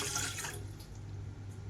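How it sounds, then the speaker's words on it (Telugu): Water runs and splashes into a cooking pot on a stove, loudest at the start then settling into a steady, softer pour, with no talking. "వాటర్ అయితే వేసుకోవాలి,"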